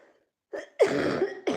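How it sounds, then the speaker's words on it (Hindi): A woman coughs close to the microphone: a short throat-clearing rasp, then one longer harsh cough, and a third cough starting at the end, with quiet pauses in between. "मेरी खांसी सही हो गई तो पता नहीं कैसे फिर हो गई।"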